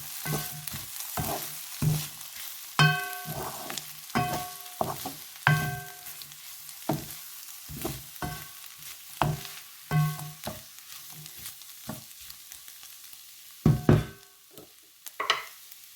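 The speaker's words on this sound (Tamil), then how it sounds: "இப்போ எல்லாம் நல்லா வதங்கி வந்துட்டுது நான் இப்போ எல்லாத்தையும் கலக்க போகிறேன்" Stirring and tossing capsicum noodles in a pan: a spatula scrapes and knocks in irregular strokes over a soft sizzle, close and clear, with no talk.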